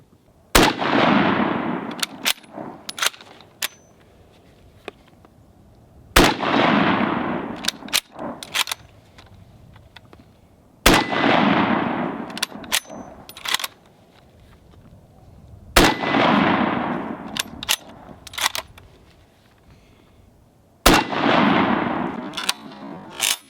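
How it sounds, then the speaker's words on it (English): Rifle shots fired with Wolf ammunition at steel rifle targets 25 yards away, five loud, sharp reports spaced about five seconds apart. Each report is followed by a rolling echo and the faint clank of the targets. "We're gonna be shooting the Wolf ammunition today."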